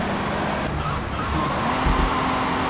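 Car engine droning steadily in the GTA 3 video game, a continuous motor hum with road noise running throughout, fairly loud and with no talk over it.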